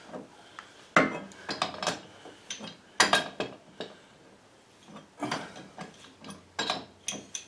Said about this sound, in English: Get our trusty pipe wrench out.